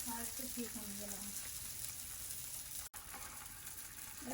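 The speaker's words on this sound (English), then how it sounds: "I will saute the onions and then I will take it off the pan" Onions sauteing in a pan in a home kitchen, a soft, steady sizzle heard close, with a brief murmur of voice at the start.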